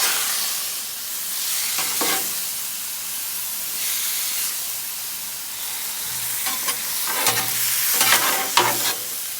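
Thinly sliced steak stir-fries on a Blackstone griddle, giving a steady sizzle with several sharper bursts of hissing as the meat is tossed and spatulas scrape across the hot surface.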